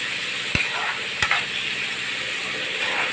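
Onions fry in a pan with a steady, close broadband sizzle, and two sharp utensil clinks or stirring knocks cut through near the start.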